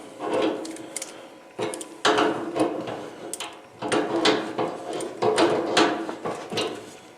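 A crescent wrench works a propane heater fitting, producing irregular metallic clicks, scrapes and knocks in short clusters, close and fairly quiet.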